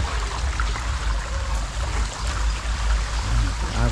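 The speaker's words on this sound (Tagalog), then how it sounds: "Agos ang tubig dito sa" Floodwater rushing through a flooded street, a steady broadband wash of flowing water with low rumble, continuous and fairly loud throughout, with no talk heard.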